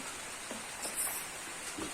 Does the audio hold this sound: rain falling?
yes